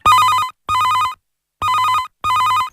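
A telephone rings for an incoming listener call on an All India Radio phone-in music programme. There are four loud, clear electronic ring bursts in an even on-off rhythm, separated by short silences.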